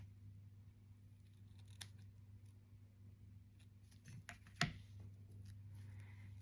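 Scissors trim scrapbook paper for an 8x8 page layout, giving a few faint snips and one sharper cut over a steady low hum, with no talking.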